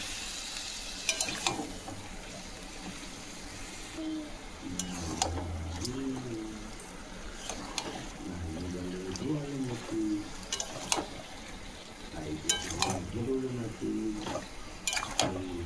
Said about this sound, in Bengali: এবারে খুব ভালো করে চিকেনটা আমি কষিয়ে নেব।